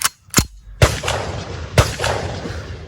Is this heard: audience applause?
no